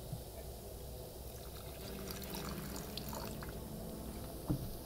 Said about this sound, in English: we're going to put straight pool acid